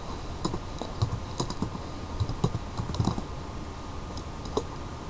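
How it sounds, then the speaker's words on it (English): Fingers type a folder name on a computer keyboard, producing a run of light, uneven key clicks at close range over a steady faint hum, with no voices. "Here you rename the folder"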